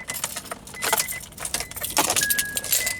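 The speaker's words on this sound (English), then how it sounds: "There's a little dinger it gives you when you leave your lights on." A lights-on reminder chime from an older Honda, a thin steady dinging tone that recurs through the clip over faint cabin rattles and jingling keys.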